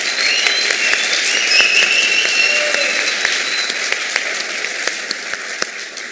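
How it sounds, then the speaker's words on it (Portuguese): A crowd gives a round of applause during a Portuguese-language motivational talk, dense clapping with sharp individual claps standing out, steady and fairly loud, tapering slightly toward the end. "uma salva de palmas para vocês"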